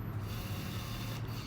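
A compact Olympus Mju Zoom 70 film camera's motorized zoom lens whirs in a steady, continuous mechanical drone, close and moderately loud, with no talking.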